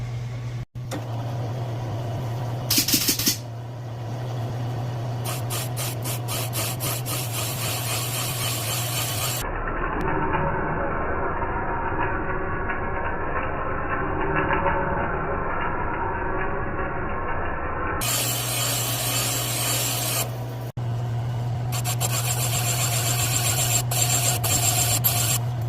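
A valve seat cutting machine working on a small-block Chevy cylinder head for exhaust seats: a steady mechanical hum with rasping, grinding cutting passes and clicks. A distinct harsher cutting stretch sits in the middle.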